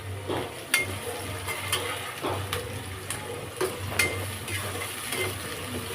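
Green chillies are stirred into frying onions in a kadai for chicken curry. A spoon scrapes the pan in repeated rhythmic strokes over a steady low sizzle.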